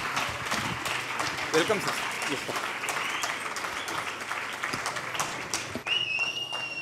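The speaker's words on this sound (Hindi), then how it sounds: "तालियां जोरदार होनी चाहिए" An audience at a motivational talk in Pune claps in sustained, dense applause to welcome a speaker, with a voice speaking over it briefly near the end.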